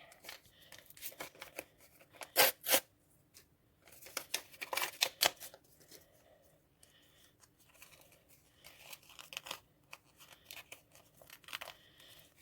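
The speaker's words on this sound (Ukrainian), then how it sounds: "Прийдеться пакетик порвати." Crinkly plastic packet holding Christmas tree ornaments tearing and rustling close up, in several sharp bursts with quieter handling noises between them.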